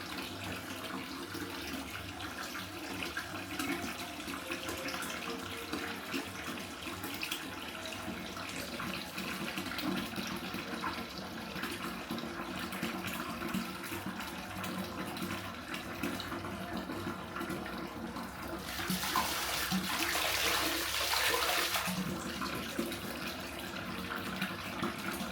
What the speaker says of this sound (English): I have just put these bubbles into this bath